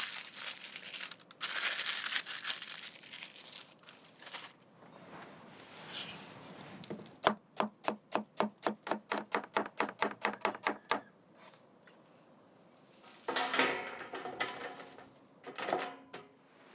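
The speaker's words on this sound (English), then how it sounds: "Now I'm carefully slicing lemons, kiwi, and onions" A knife slices through lemons, kiwi and onions outdoors, first with crisp crunchy cuts, then a fast even run of about fifteen sharp chops on a board, followed by more rustling slices, close up and without talk.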